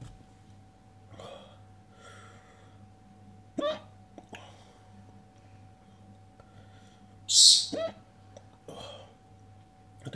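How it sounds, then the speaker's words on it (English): Hiccups come after eating a hot Tesco British Komodo Dragon chilli pod: several sharp, close throat jolts spaced a few seconds apart, one much louder than the rest, with quiet breathing in between. "I tend to only get hiccups from habs"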